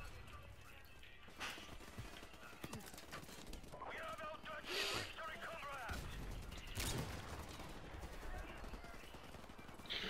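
Gunfire in a video game rings out amid horse hooves clip-clopping and neighing, with sharp scattered shots and bursts over a busy, faint background mix.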